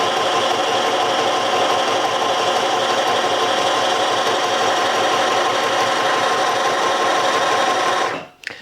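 A sewing machine stitches a raw fabric edge of a drawstring bag in one long, steady, close run of rapid whirring, stopping abruptly at the end.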